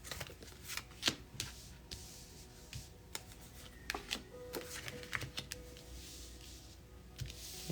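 A deck of tarot cards shuffled by hand at close range, quiet riffling and flicking with irregular soft slaps and card snaps spread throughout, no voices over it.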